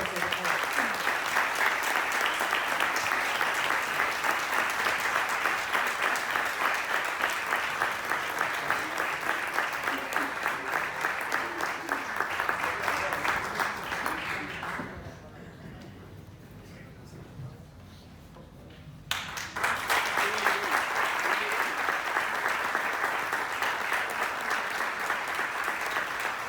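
Audience applause at a nature conservation award ceremony, a dense steady roar of many hands clapping that drops away briefly before swelling back, with voices mixed in.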